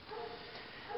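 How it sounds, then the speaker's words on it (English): A dog barks and yips briefly indoors, the short bursts coming through steady room noise. "Sorry about the dog."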